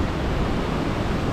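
A fast-flowing, swollen, muddy river in the Dolomites after heavy rain makes a dense, continuous rushing roar that stays loud and even throughout, with no voices.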